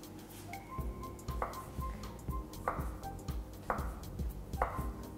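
A knife taps repeatedly against a cutting board in a steady rhythm, slicing through a soft crepe, with faint background music.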